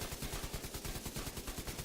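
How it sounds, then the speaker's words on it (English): A light machine gun fires in a video game in one sustained burst of rapid, evenly spaced shots, fairly loud, with no one talking. "So let's just do some shooting here without anything procced."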